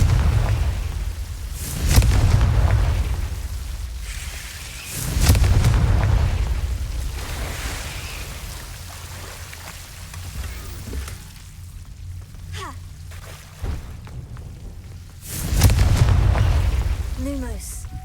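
A fire-spell blast goes off in a fantasy wizarding game, its booming burst followed by crackling rumble, with several heavy eruptions and background sizzle under intermittent spoken lines.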